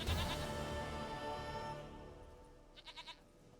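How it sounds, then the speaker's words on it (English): A goat in The Witcher 3 video game gives a few short, faint bleats near the end, following a fading wash of background game sound. "Goat of mine, dearest, sweetest goat."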